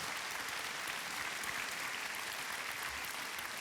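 Audience applause for the speakers of a panel discussion at a conference, a steady dense wash of clapping from a room full of people, fairly distant and unbroken throughout.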